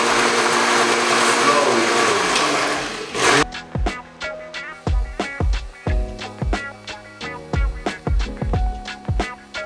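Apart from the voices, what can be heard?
mixing deviled egg yolk filling while adding oil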